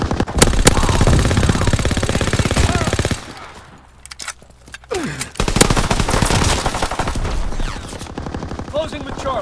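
Rapid automatic gunfire rattles loudly in Call of Duty, dense bursts that pause briefly then resume with scattered shots, mixed with game voices.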